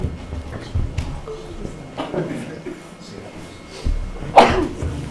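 A single sneeze bursts out near the end of a cold town select board meeting room, following quiet room noise and faint murmuring.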